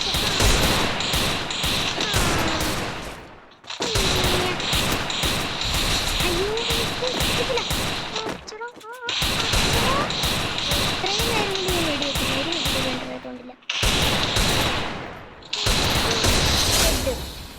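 Rapid bursts of gunfire in a shooting video game, loud and continuous, broken by short gaps, with a voice talking over the shots at times.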